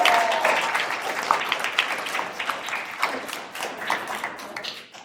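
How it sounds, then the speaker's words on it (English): A small group applauding at an elementary school spelling bee, lively clapping that gradually thins and fades out toward the end. "Give everyone a round of applause."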